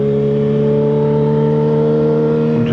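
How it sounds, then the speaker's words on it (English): A motorcycle engine drones loud and steady while riding, recorded up close through a helmet-mounted mic, with a constant tonal hum throughout and no talking. "I'm just hoping that the bike isn't too loud."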